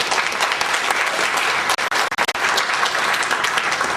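Sustained applause from an audience at a university presentation event, dense and steady throughout with a brief dip midway before resuming at full strength.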